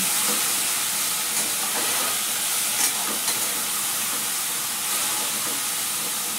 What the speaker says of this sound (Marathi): थोडंशी ही आधी असं तेलावरती परतून घेऊया